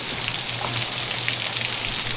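Heavy rain pouring outside a garage in the south of France, a dense continuous hiss of drops drumming on surfaces, close and loud throughout with no one speaking.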